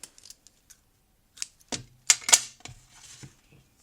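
A few crisp snips of scissors cutting close by, preceded by faint clicks and light handling sounds.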